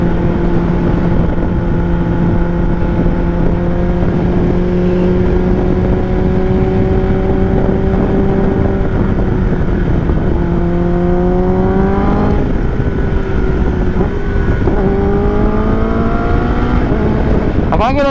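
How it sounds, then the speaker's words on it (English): A 2023 Kawasaki ZX10RR sportbike under way, its loud, steady engine drone rising in pitch through the gears, with crisp quick-shifter upshifts and auto-blipped downshifts as revs jump and fall, plus constant wind rush. "I can't get over how nice the quick shifter is in this bike and the auto blip."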